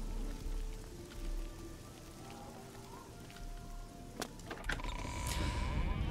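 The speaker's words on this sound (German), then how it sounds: "Es regnet." Soft, steady rainfall patters across surfaces in The Elder Scrolls IV: Oblivion, faint and continuous, with a few brief clunks and a swelling noise near the end.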